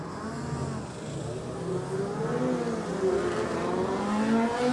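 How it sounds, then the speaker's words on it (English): A Honda Fireblade racing motorcycle on a road-race course, engine tone rising and shifting as it accelerates past, moderately loud against background noise, no voices. "Darrell Tweed out on his Fireblade this time round"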